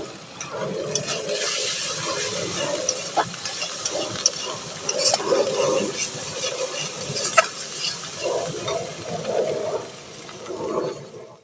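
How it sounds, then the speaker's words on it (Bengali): Ground cumin, coriander and dry red chili powder sautéing in a pan for an egg curry, a soft continuous sizzle with occasional stirring scrapes and ticks, close and steady throughout. "মশলাটা একটু কষিয়ে নেব"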